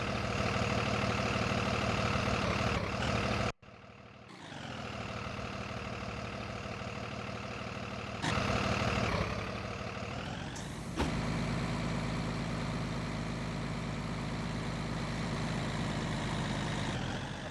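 A school bus diesel engine in the Rigs of Rods driving simulator idles with a dense, steady rumble, cut by a short gap and abrupt shifts in pitch and loudness, then settles into a continuous loud drone with no talk.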